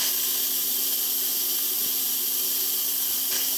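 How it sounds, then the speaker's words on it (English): An Instant Pot releasing pressure while baked potatoes cook gives off a loud, continuous hiss of escaping steam, with a few faint pops and ticks scattered through it and no talking. "The steam is coming out, popping and stuff."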